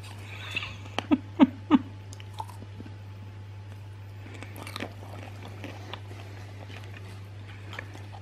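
A dog crunches popcorn up close, a quick burst of crisp bites and chews early on, then quieter sporadic munching over a constant low hum.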